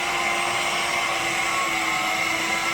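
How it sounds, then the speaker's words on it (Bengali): An electric beater whirs steadily as it whips a homemade ice cream mixture, a loud, constant motor whine with no breaks and no talking. "এবার একটু বিট করে নেব।"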